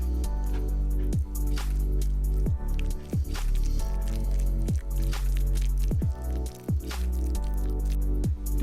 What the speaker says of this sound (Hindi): अब इसको डाल के अच्छे से मिक्स कर लेंगे।